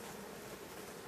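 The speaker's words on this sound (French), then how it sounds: "Donc on voit les abeilles dans la hausse." Honeybees buzz inside a beehive super, a dense, continuous droning hum heard up close, steady and fairly faint over a short moment.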